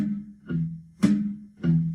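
Fingerstyle guitar lick, three plucked attacks with ringing low bass notes, played close and alone with no talking.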